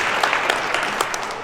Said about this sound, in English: let's keep that applause going for my son who's coming in March.